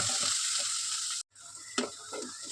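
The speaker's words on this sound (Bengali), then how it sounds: "পেঁয়াজটা যখন অল্প অল্প একটু ভাজা হয়ে গেছে" Carrots and onions fry in a pan with a soft, hissing sizzle that cuts out briefly, then resumes with a few spoon scrapes and clinks.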